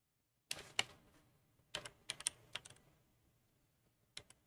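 Bursts of typing on a computer keyboard during a search, with quick clustered keystrokes, a pause, then another flurry and two final taps, close and fairly quiet.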